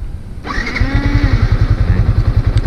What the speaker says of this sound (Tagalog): Pag binuhay natin yung makina